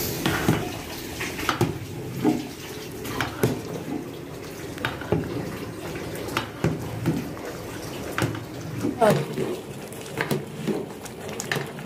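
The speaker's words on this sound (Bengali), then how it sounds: "চাউলটা দিয়ে দেওয়ার পরে এখন ভালো করে মাংসের সাথে মিশিয়ে নেবেন" Washed rice being stirred into beef in a large pot for a 60-serving beef biryani, giving wet, scraping and sloshing sounds in irregular bursts, close and moderately loud with no talk.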